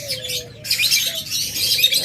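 Lovebirds chirping at a crowded bird sale, a dense wash of high, rapid tweets and chatter from many caged birds, steady and fairly close, with a brief lower whistle-like call near the start.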